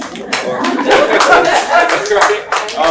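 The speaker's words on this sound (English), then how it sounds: "So if we can give like the little 2-finger clap, you know, those who got kids." A dinner audience gives a quiet two-finger clap, a soft, dense patter of light taps spreading through the room for about three seconds, with a few chuckles mixed in.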